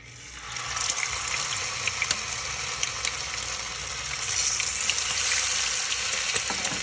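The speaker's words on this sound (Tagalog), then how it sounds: "ang init na ng mantika. So ilalagay ko na ito." Hot oil sizzles and crackles steadily as chicken fries in a pan, the frying growing louder partway through, with no talking.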